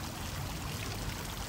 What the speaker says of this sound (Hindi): ये देखें जी गर्म पानी का चश्मा।